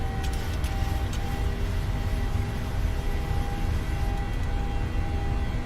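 Airliner engines spooling up to takeoff power in Microsoft Flight Simulator on a Ryanair flight, a loud, steady jet roar with a low rumble and a faint whine held constant throughout, with no talk over it.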